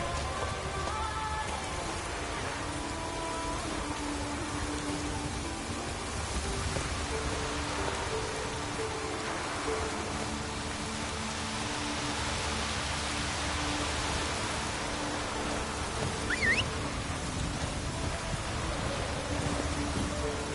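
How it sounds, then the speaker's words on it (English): Continuous steady rain in the video game The Witcher III: Wild Hunt, a dense even hiss with faint low rumbling underneath, unbroken throughout and without speech. "Looks like rain."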